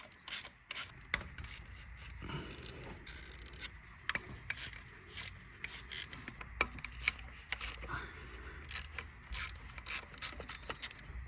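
A ratchet undoes small 10 mm bolts on the EGR valve of a Mazda 2.2 Skyactiv diesel engine, giving faint, close, irregular clicks and metallic ticks spread through the clip.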